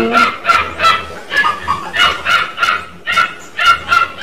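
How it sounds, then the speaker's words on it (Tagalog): A dog barks repeatedly in short, sharp bursts at a fairly steady rhythm, loud and fairly close, with nothing else prominent. "medyo maingay po yung ating aso sa ating kapitbahay"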